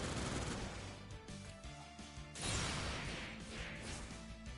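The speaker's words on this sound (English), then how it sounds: "Machine cannon." Machine cannon on a mech firing in a video game, a dense loud burst of rapid shots with a sharp second volley partway through.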